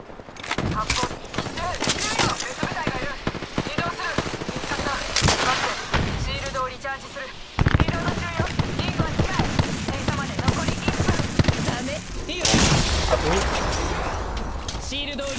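Rapid bursts of gunfire in the video game Apex Legends, sharp cracks and automatic volleys coming in clusters, loud and near, with excited talking over them.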